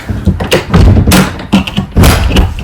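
Several heavy thumps and bangs as an RV door is pushed and slammed shut in strong wind, mixed with rattling and knocking, loud and close.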